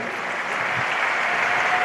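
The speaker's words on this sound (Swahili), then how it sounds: "Pigie Yesu Kristo makofi" Worshippers at a church service applaud in praise of Jesus Christ, a brief, even burst of continuous crowd clapping heard on its own.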